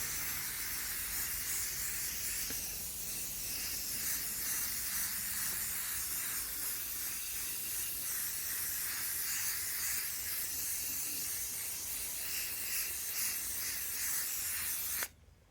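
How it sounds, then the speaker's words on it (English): Hairspray from an aerosol can sprayed over a wooden cutting board made from scrap wood, a steady, continuous hiss held for about fifteen seconds at close range before it cuts off abruptly. "So I'm going to just coat it with hairspray and let it dry."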